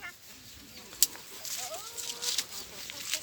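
A rooster clucks and calls in short, faint bursts against an outdoor background, with a sharp knock partway through and soft voices nearby.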